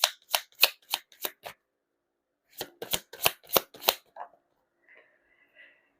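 A tarot deck is shuffled in two quick bursts of sharp, crisp card riffles, each a rapid run of about five snaps, followed by a few softer handling sounds, close and clear with no talking.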